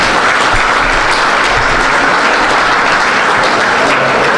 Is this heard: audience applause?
yes